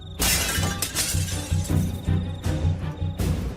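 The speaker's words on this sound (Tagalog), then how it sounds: "isang nakabibinging pagkabasag ng salamin na ang umalingaw-ngaw" A loud, sudden glass shatter, followed by a long spray of breaking and crashing shards that rings on for several seconds, with no voices.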